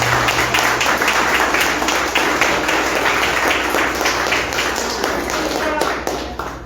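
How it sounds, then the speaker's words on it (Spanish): A church congregation applauds loudly and steadily, dense clapping filling the space from start to finish with faint voices mixed in. "Dale un fuerte aplauso al Rey de Reyes."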